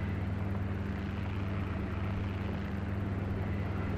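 Continuous low drone of a helicopter flying in the X-Plane flight simulator game, a steady engine and rotor hum with a faint regular pulse, even in level throughout and with no talking.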